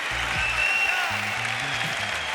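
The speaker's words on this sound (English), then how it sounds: "We'll let him take the applause." A crowd at a MotoGP awards gala applauds in a continuous, even roar of clapping, with a low hum and faint tones running underneath.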